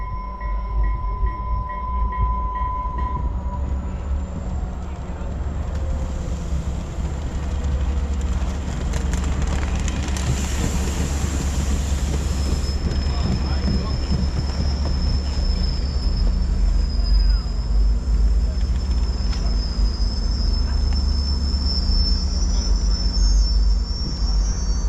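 A commuter train sits at a station platform with a loud, steady rumble of engine and rolling stock, high squeals and tones rising over it midway, and insects chirping constantly underneath.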